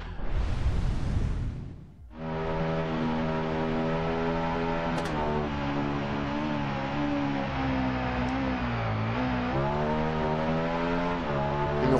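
In the Ride 2 racing game, a full-power 2001 Honda VTR SP1 motorcycle engine roars, cuts briefly, then pulls hard again in a loud, sustained climbing drone with gear-change dips.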